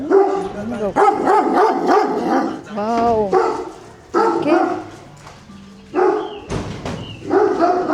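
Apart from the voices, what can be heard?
dog barking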